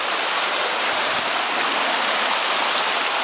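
Water in a restored brook trout stream rushes continuously through side chutes beside a log jam, a close, steady broadband gush with no voices.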